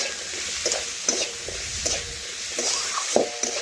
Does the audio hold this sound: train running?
no